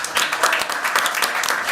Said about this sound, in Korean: 다시 한번 박수 한번 보내주십시오